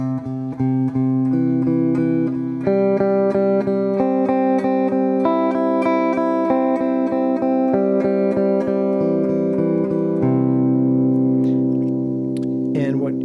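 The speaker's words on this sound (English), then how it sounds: "So this is just arpeggiating through the chord" A guitar is picked through a chord as an arpeggio, each string ringing out and sustaining so the notes overlap, played clearly and close up with no voice over it.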